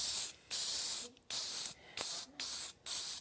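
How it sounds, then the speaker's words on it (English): A spray paint can lays down a thick coat in four long, close bursts of loud hissing, each separated by a short pause, with faint rattling between sprays. "we're gonna put a thick layer of spray paint on our"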